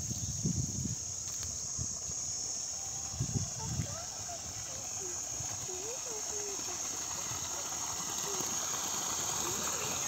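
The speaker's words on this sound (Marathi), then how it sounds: "या प्रमाणात एवढ्या प्रमाणामध्ये 3 HP पंप हा पाणी फेकत आहे।" A 3 HP solar water pump throws out water in a steady gushing rush, with an insect-like high hum throughout and a voice briefly talking.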